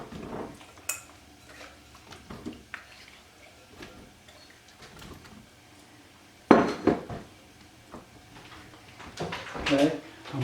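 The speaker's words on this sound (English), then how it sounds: "I've got my potatoes already peeled and sliced," Peeled, sliced potatoes set into an 8x8 casserole dish make a few soft taps and clinks against the pan, with a louder clatter near the middle and again toward the end, under light kitchen background.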